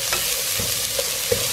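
Onion added to browned garlic frying in a pan, a close, busy sizzle with spatula stirs and scrapes knocking in at intervals, no talk.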